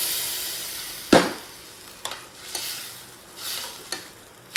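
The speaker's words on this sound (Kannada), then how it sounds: "ಇದೊಂದು ಮಸಾಲ ಫ್ರೈ ಆಂಡು" Masala for a black chickpea curry sizzles in hot oil in a pan, with a steady frying hiss broken by several sharp stirring scrapes and clinks, close and fairly quiet, with no voices.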